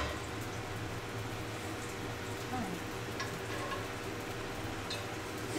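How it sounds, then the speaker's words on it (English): Jerk chicken fries in oil, giving a steady, soft, hissing sizzle with scattered faint pops and clicks throughout. "I'm gonna scoop some of this oil out and start frying the jerk chicken."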